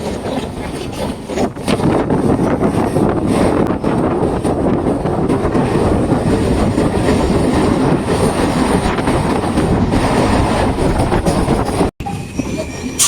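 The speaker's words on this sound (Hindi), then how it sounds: "स्टेशन स्किप करेगी, यहाँ गाड़ी नहीं रुकती है मातला।" A local train rolls past Taldi railway station without stopping, on the Canning to Sealdah line, loudly and continuously, wheels rumbling and clattering over the rails with some squealing, a sustained roar with no voices.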